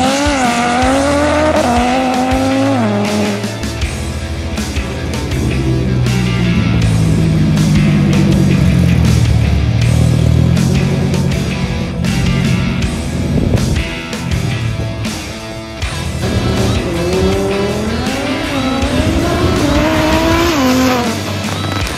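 A tuned turbocharged race car with over 1000 horsepower launches hard in a 0 to 100 acceleration test, its engine roaring loud and close through repeated rising revs, with tire squeal and no talking.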